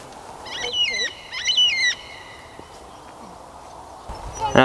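Carnaby's black cockatoos fly over a farm vegetable garden, giving two drawn-out, wavering calls early on that fade into a quiet outdoor background, with a faint knock near the end.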